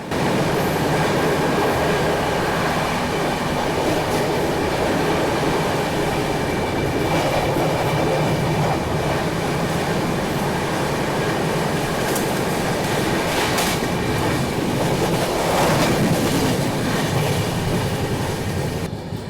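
The Tirupati–Jammu Tawi Hamsafar Express rolls steadily along the rails just past Bellampalli station, a continuous loud rumble with rattling and faint clatter throughout, no voices.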